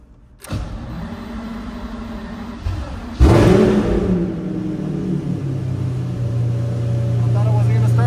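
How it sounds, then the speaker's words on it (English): A modified Lamborghini Murcielago engine catches after a short quiet start, then jumps to a loud rev and settles into a steady, deep rumble that swells slightly toward the end. "we'll take the Murcielago out for a test drive"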